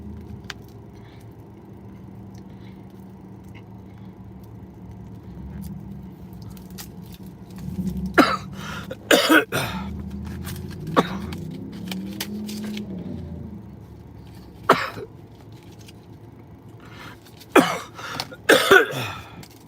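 A smoker coughing indoors, with scattered short coughs and throat-clearing bursts clustered in a few spots over a low steady background rumble, fairly close.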